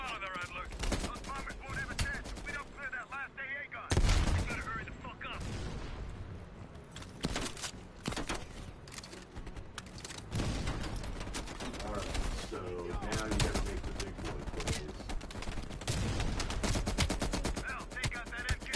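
M4 rifle fire in Black Ops Cold War crackles in rapid automatic bursts and scattered shots, dense and loud throughout, with a player talking over the gunfire.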